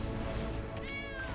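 A cat meows once in a drawn-out, falling cry as cat tokens are created in a Magic card game, set over a steady background hum.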